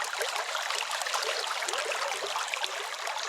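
A Wisconsin river rushes past a gold-mining sluice, giving a steady, dense, close-up hiss of flowing water with no pauses and no voices.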